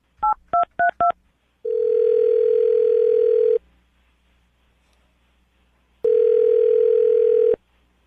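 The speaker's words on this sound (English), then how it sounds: "I'm going to dial her phone number right now." A few quick dialing beeps, then a steady telephone dial tone hums for about two seconds, falls silent, and returns once more.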